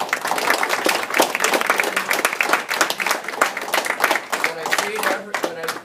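An audience applauds a police officer at a community talk, with dense, sustained clapping and some crowd noise lasting several seconds.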